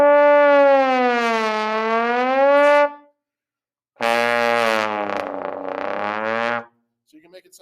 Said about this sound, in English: Because of the slide, it can do this thing we call a glissando, which is probably the most fun thing to do on the trombone